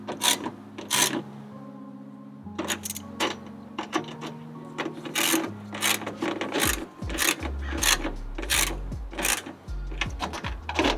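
Ratchet-like clicks and metallic turning noises come from tightening the fasteners on Rek Gen mud flaps fitted to a 3rd-gen Toyota Tacoma. Bursts of clicking repeat irregularly over a steady tonal backdrop, close and moderately loud.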